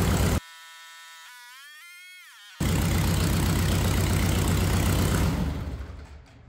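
A small airplane piston engine run-up at 2200 RPM: after a brief high whine, a loud, steady, close engine drone holds for several seconds before fading away.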